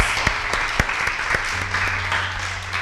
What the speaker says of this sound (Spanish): Un aplauso para estos hermanitos.